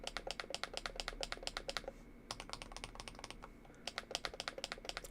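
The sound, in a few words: typing on keyboard switches, Epomaker or Monsgeek keyboard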